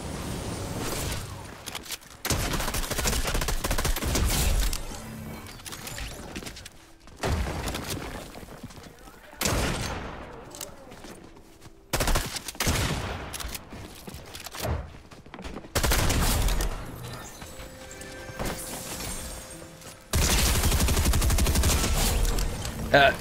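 Shotgun blasts and rapid gunfire in the Fortnite video game, loud bursts in clustered volleys separated by short pauses, with brief voices between the shots.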